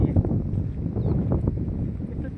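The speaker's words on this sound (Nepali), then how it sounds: "यस्तो चिसो हावा चल्छ" Cold wind in Mustang buffets the microphone with a continuous low, rough rumble that rises and falls in gusts throughout.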